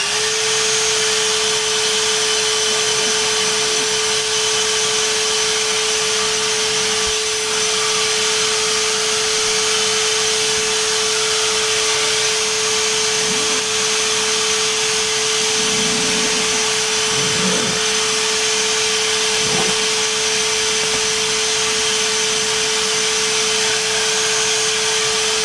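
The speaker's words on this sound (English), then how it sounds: "So I'm gonna turn on my shop vac" A shop vacuum runs continuously at close range, a loud steady whine and rush with a fixed hum, lasting the whole time without talk.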